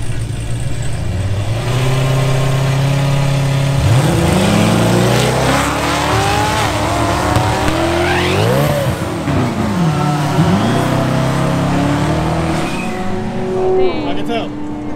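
Mustang race car at Houston Raceway: a loud engine roars and revs, pitch sweeping up through the gears as it passes, with a steady motor drone underneath and people talking excitedly over it.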